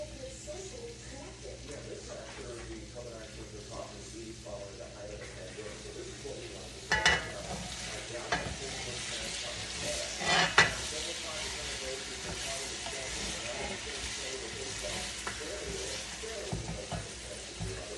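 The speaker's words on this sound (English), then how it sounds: "my onions, they're beginning to cook" Onions frying in a pan for Rasta Pasta, a steady soft sizzle with occasional stirring scrapes and clatter, while a person talks over it.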